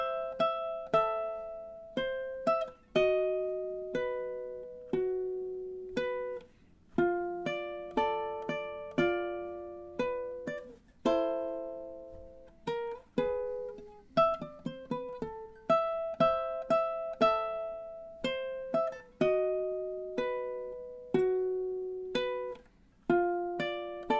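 Ukulele plucking the Luigi's Mansion main theme from the video game, a quiet, close melody of short notes and strummed chords in a steady measured rhythm, played alone without talk.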